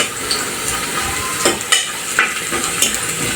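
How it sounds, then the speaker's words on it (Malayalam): Grated coconut and shallots sizzling in ghee inside a pressure cooker, a dense steady frying hiss broken by scattered scraping stirs, close and continuous with no talk. "കുക്കർ വെച്ചു, കുക്കറിനകത്ത് തേങ്ങ ഇട്ടു, അതിന് ചെറിയുള്ളി ഇട്ടു, നെയ്യ് ഒഴിച്ചു."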